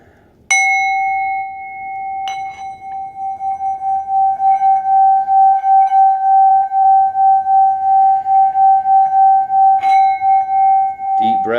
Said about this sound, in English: by focusing on the resonance of the sound of this particular bowl